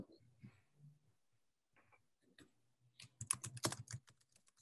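Scattered keystrokes on a computer keyboard, sparse and hesitant at first, then a quick run of close, crisp typing near the end.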